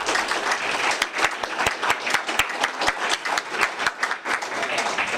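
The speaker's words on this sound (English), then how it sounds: "let's give her a round of applause as she comes forward." A small crowd at a meeting claps for several seconds, steady applause of many hands at moderate volume.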